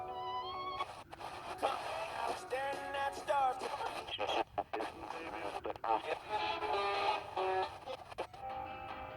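A Grundig Yacht Boy 205 radio plays FM music with singing and broadcast sound, fluctuating and choppy through a faint, slightly noisy receiver over several seconds.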